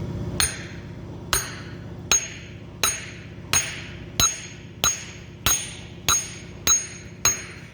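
Brass hammer blows on steel during repair of a hydraulic cylinder, eleven sharp ringing strikes at a steady, slightly quickening rhythm, close and loud over a low background hum.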